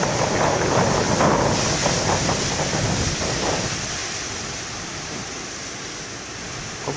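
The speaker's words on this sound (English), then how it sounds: "I wouldn't say the waves are monsters, but they're not shabby either." Fairly big ocean waves crash and wash in a broad, continuous roar at dawn, loud at first and easing slightly as the surge subsides.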